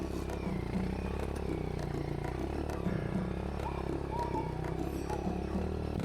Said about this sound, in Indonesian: gue gas perlahan motor bisa naik Pak